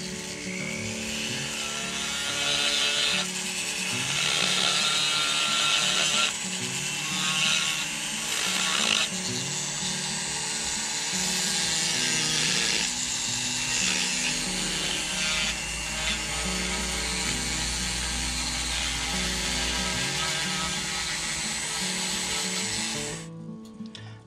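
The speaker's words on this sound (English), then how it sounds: "this little flame fine burr will work here" A rotary tool fitted with a fine flame burr grinds into a wooden trout fin during carving, a continuous high whirring buzz with shifting pitch as the bit bites and eases, close and steady, no talking.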